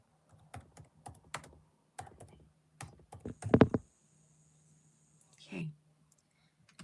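Typing on a computer keyboard in bursts of quick clicks with pauses between, close and fairly quiet, followed by a brief soft voice near the end.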